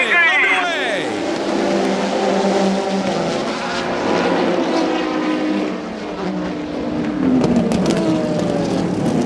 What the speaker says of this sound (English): Chilton bringing them to the line in the Zytek, looking for the green flag. 4 hours of racing underway.